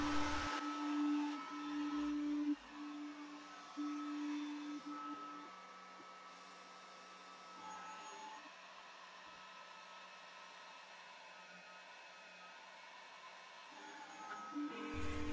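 An Atezr L2 24W laser engraver works over a cardboard board at low power, giving a steady, moderately loud whirring hum with a constant tone, faint clicks and shifts as the head moves, with no talking.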